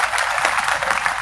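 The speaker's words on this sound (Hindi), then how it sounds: "जोरदार मैं चाहूंगा उनके लिए ताली बजाएं।" Audience applause at a political song performance, a steady dense patter of clapping throughout, fairly loud and close, with no talk over it.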